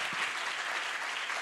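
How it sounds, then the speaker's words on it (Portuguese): An audience gives a warm round of applause after a talk about a story of forgiveness and love: dense, steady clapping, fairly distant, with no pauses through the short stretch. "merece um aplauso mesmo."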